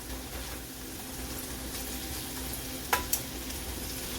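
Browned meatballs go into a skillet and fry with a steady, dense sizzle, with a couple of sharp clinks from a utensil near the end.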